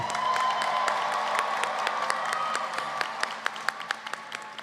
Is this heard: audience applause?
yes